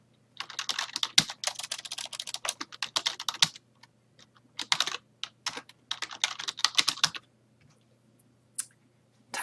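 Typing an email address on a computer keyboard, quick bursts of close key clicks separated by short pauses, fairly quiet.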